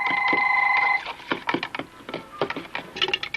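A telephone rings with a steady electronic tone for about a second, then stops, followed by close clattering and handling noises as the receiver is picked up.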